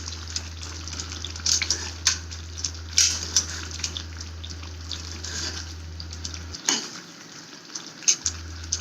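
Aubergine curry is stirred in a pan, with soft scraping and wet clacks of the spoon at irregular intervals over a low constant hum and gentle sizzle.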